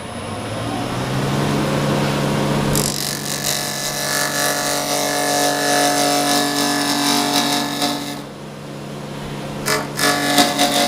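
A power tool makes practice cuts in wood to shape an arc for a winged box, starting as a steady loud whine after a quiet lead-in, running continuously, then briefly dropping off before short bursts resume.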